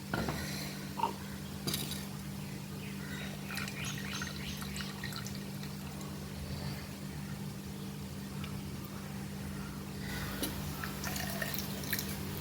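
Water pours and drips into a mixer jar for buttermilk, a quiet, close trickle with occasional splashes over a faint steady hum, with no voices.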